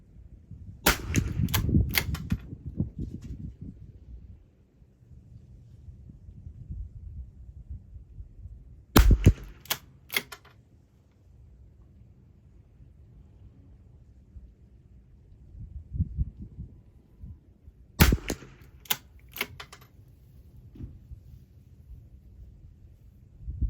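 A 50-year-old Browning lever-action .22 rifle fires sharp, loud cracks in three separate bursts of several shots each, with quiet handling noises between.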